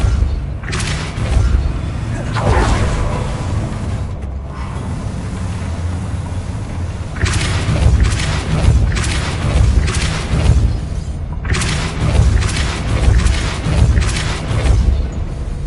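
A Depulso spell cast in the Hogwarts Legacy video game sets off loud, booming blasts that swell over a dense, roaring rumble, with surging bursts repeating across the stretch.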